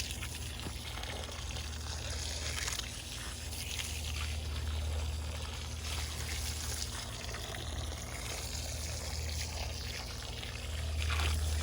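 A garden hose pours water steadily onto the soil around a newly planted cherry tree in a raised garden bed, a continuous close splashing trickle that lasts throughout.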